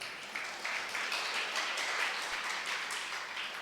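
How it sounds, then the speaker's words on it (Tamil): An audience at a Tamil pattimandram debate on spirituality breaks into applause for three people, a soft, steady patter of many hands clapping from a distance, fairly faint and continuing evenly without talk. "இந்த 3 பேருக்கு ஒரு கைத்தட்டு கொடுத்துருங்களேன்"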